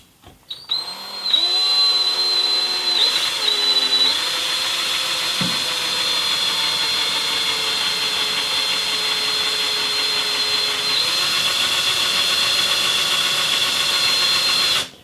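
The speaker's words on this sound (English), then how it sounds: "Drill is straight up." A power drill bores through metal for a concho, whining steadily at high pitch for a long stretch, a harsh grinding tone that shifts slightly as it bites.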